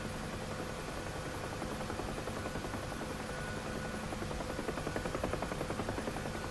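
Steady whirring drone of a Huey helicopter in flight in DCS, a continuous dense engine and rotor noise with a faint rhythmic blade chop, no talking.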